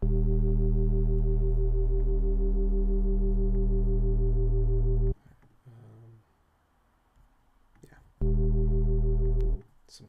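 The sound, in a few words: wavetable synth bass with distortion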